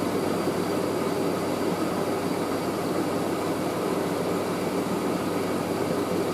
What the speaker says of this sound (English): that's how the AAA160 spins on the synthetic spin